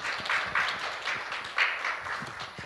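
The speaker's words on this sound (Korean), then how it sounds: "큰 박수 부탁드리겠습니다." An audience applauds at a records-management seminar in Korea, a steady wash of clapping with a few louder swells that runs the whole time, with no voices over it.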